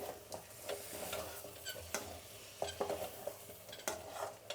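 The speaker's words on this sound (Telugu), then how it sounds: "ఇప్పుడు దీన్ని కలిపేసి స్టవ్ ఆపేద్దాం." A spoon stirs chicken curry with fresh coriander in a pot, making repeated scraping knocks against the metal over a soft background sizzle, close and moderately loud with no talking.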